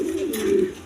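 A pair of pigeons coo at a dealer's stall, a soft low warble rising and falling for about a second, close and alone with no talk.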